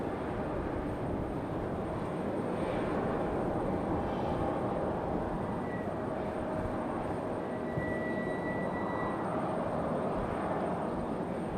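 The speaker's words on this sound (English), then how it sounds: "Got an American A321 making its way out to the end of the runway there" An American Airlines A321 taxis toward the runway end at Raleigh-Durham airport, a steady distant jet engine rumble and whine holding even throughout, with faint tonal whistles drifting in and out over broadband airport noise.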